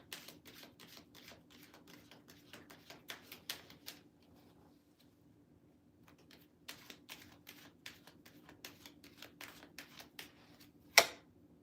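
Tarot cards are shuffled and handled close by, producing quiet, rapid clicking and flicking bursts with short pauses between them, ending in one louder snap.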